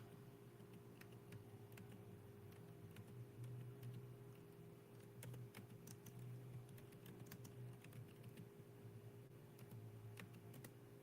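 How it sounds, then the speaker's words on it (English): Keys on a computer keyboard clatter in quick, irregular bursts of close, crisp taps over a low steady hum, with short pauses between runs of typing. "I'm going to type it up real quick"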